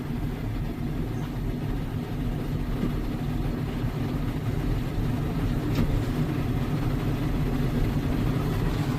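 A 1995 snowmachine engine runs with a dense, steady low rumble, held loud and constant throughout without talking.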